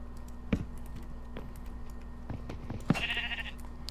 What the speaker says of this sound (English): Now, I have a pink sheep in Minecraft.